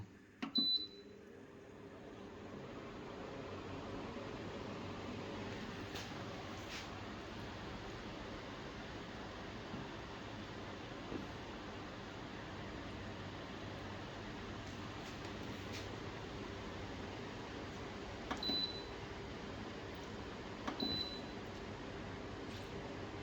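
A Comfee AC120-19ARB evaporative air cooler fan runs on high, giving a steady, even whoosh of rushing air that holds constant throughout, with a few faint clicks near the start and end.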